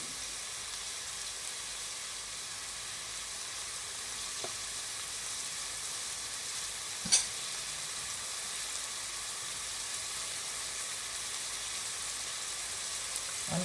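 Salt fish fries in a pan in a Guyanese-style home kitchen, giving off a steady, even sizzle that continues throughout, with a faint clink near the middle.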